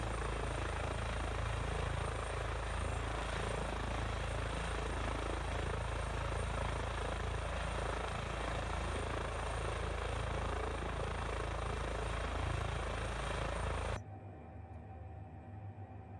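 An EC145 air ambulance helicopter flies in Microsoft Flight Simulator, a steady loud rotor and turbine drone with a constant whine that holds unbroken, then drops abruptly to a quieter cabin hum near the end.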